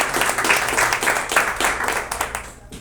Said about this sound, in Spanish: Un aplauso por favor a la doctora